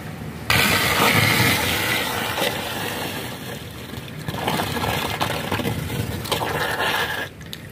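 Rainwater drains from a flooded rooftop after a clog is cleared, gushing and splashing steadily and close with a scraping undertone, no voices.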